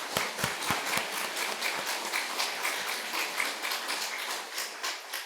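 A congregation applauds during a Sunday church service, producing a quiet, scattered patter of many hands clapping that starts with sharper claps and settles into a softer, even ripple.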